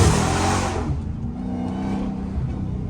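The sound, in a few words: Dodge Hellcat SRT engine revving at night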